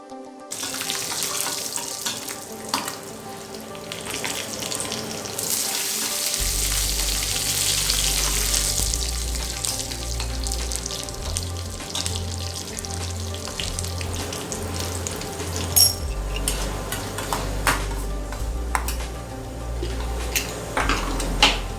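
Continuous hot-ghee sizzling and crackling of spices tempering, steady and close, with a low hum underneath and occasional clinks.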